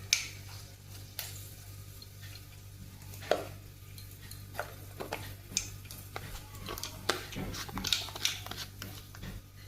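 Asafoetida sizzling in hot oil in a pan while cooking taro leaves, a soft steady sizzle under a low hum, broken by scattered clicks and scrapes of a spatula against the pan.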